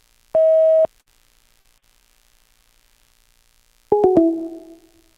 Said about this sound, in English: Leave your message at the tone.